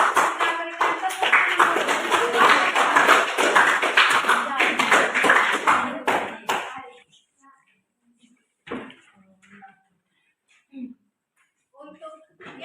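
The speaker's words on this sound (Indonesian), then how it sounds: "Marilah kita berikan tepuk" A class at a teacher-training session claps together for about six seconds, a loud, close rattle of many hands. The clapping then stops abruptly, leaving near silence broken by a few scattered voices and small knocks.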